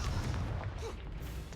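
The Confringo blasting spell in Hogwarts Legacy lands as a muffled boom and explosive rumble, dense and loud through a short burst of combat noise.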